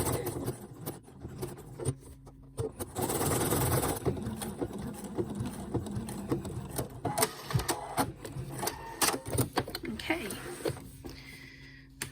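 Sewing machine stitching the fabric of a disposable blood pressure cuff, a busy mechanical whirring and clatter that runs in bursts across the clip, close and fairly loud.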